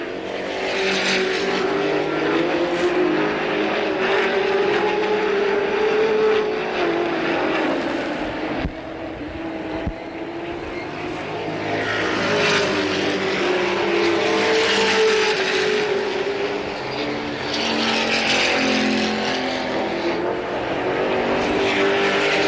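Late model stock cars race past on an oval track in 1985, their engines roaring loud and near in continuous waves as the pack passes by, rising and falling with each car.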